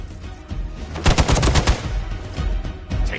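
Rapid bursts of automatic gunfire in Marvel's Midnight Suns crackle loudly and close, with a dense cluster of shots in the middle followed by scattered further rounds.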